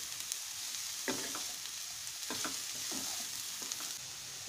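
Grated beetroot and carrot sizzle softly in a frying pan with a steady hiss, broken by a few scraping stirs from a spatula.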